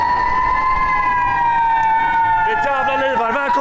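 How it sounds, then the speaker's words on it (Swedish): A fire engine siren wails loudly and steadily on a New York City street, joined near the end by a rapidly warbling police car siren, with a voice speaking underneath. "Det här är brandbilar, det är polisbilar"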